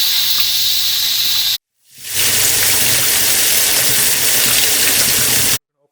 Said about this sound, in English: put the pressure cooker in the water, just so that the pressure cooker is cooling down faster